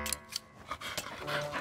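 Dogs pant and give short barks and whimpers at close range, a mix of breathy huffs and brief yelps with a voice speaking nearby.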